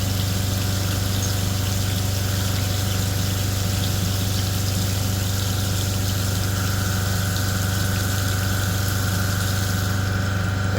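Machine tool running continuously with its coolant pump on, a steady low hum and mechanical drone with a watery wash layered over it, unchanging and close throughout, no voices.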